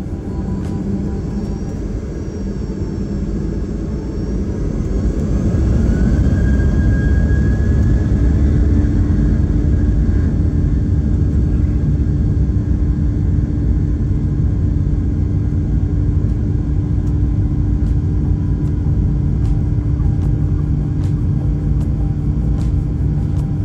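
Jet engines of a Nok Air airliner spool up for takeoff, a loud steady roar and low rumble that swells after a few seconds, with a rising whine, then holds a continuous powerful drone throughout.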